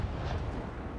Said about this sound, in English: Ranging shot, hit, full broadside